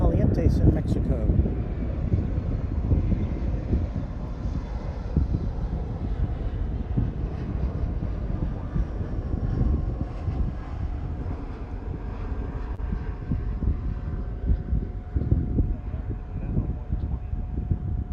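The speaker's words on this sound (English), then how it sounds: "We've got American Flight 3687 coming in from Aguas Calientes in Mexico." An American Airlines passenger jet on arrival at DFW International Airport on a summer morning, a loud continuous low engine roar with wind buffeting, steady throughout, with someone talking over it.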